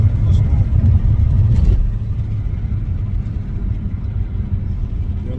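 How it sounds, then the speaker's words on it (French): Peugeot 308 GTi accelerating hard in dynamic mode, a loud steady low engine rumble heard from inside the car, with a brief louder burst early on before settling into a sustained drone. "Ça accélère pas mal, hein, franchement"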